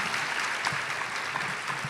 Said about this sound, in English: Everyone, a big round of applause for them.